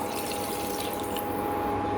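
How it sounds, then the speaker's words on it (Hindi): Water is poured into potato curry in a cooking pan, a brief steady splashing stream that sounds close and continuous, with no voices. "थोड़ा सा पानी मैं और ऐड करती हूँ, मुझे पानी कम लग रहा है"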